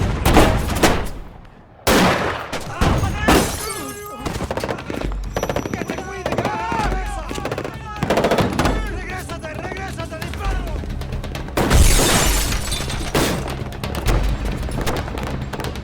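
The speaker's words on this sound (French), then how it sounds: "que l'on entend le bruit que font vraiment les mitraillettes, le bruit des balles à l'écran." Real machine gun fire with bullet impacts from the Miami Vice film, sharp rapid bursts and booms cutting through a noisy action scene with shouting voices and clattering debris.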